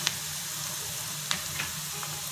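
Onions browned golden in a pan, sautéed with asafoetida, turmeric and goda masala, give a steady soft sizzle throughout, with a few brief clicks of a spoon against the pan.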